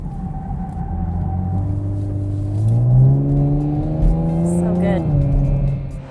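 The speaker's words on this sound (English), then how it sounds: "the exhaust amplifies a good sound" A 2020 Chevrolet Camaro's exhaust drones steadily while driving, its pitch climbing through a gear as it accelerates, then dropping back with a shift, close and loud throughout.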